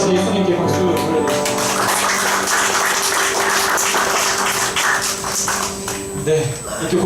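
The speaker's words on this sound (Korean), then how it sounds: "내 기쁨이 되신 예수님께 박수 보내드립니다." A congregation claps at a Korean worship service, steady broadband applause blending with music and a voice over about seven seconds.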